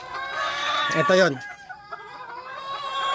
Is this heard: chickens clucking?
yes